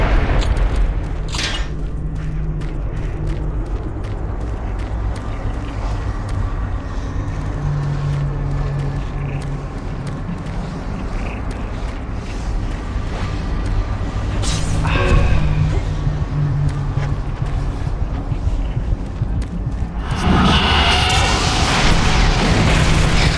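Rocket blasts in the Doom 3 BFG Edition video game: booming explosions that erupt in several bursts, the largest roaring burst near the end, over a constant rumbling game soundscape.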